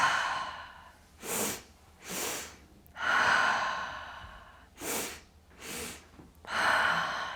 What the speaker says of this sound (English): So it'll sound like this. It's 2 sniffs of air in through the nose,